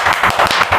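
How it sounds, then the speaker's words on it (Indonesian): Hands clap in a quick, even rhythm during an indoor podcast conversation, a short run of about eight sharp, close claps lasting under a second. "Tepuk tangan dulu dong biar rame."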